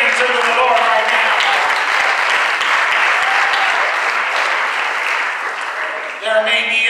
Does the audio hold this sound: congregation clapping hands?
yes